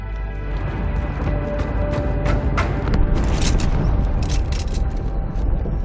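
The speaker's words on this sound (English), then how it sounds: "That explosion came from inside the Athens." A sustained, heavy rumbling explosion inside the ship Athens in Halo 2, a dense roaring boom with crackling debris and metallic bursts layered over it, loud and continuous throughout.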